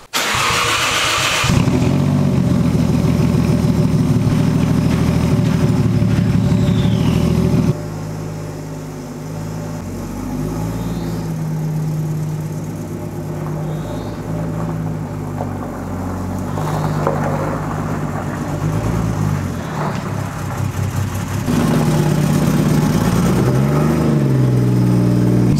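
A car engine starts in a farmyard with a loud burst of cranking and revving, then settles into a steady, somewhat uneven idle with rises in revs near the end. No one speaks.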